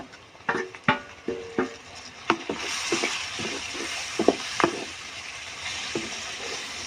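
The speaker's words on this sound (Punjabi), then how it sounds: "ਇਹ ਟਮਾਟਰਾਂ ਨੂੰ ਵੀ ਆਪਾਂ ਮਸਾਲੇ ਦੇ ਵਿੱਚ ਚੰਗੀ ਤਰੀਕੇ ਨਾਲ ਭੁੰਨ ਲਾਂਗੇ" Chopped tomatoes and masala being roasted in a pan for a small-eggplant bharta, with a soft sizzle and irregular close clanks and scrapes of a spatula stirring against the pan, no talking.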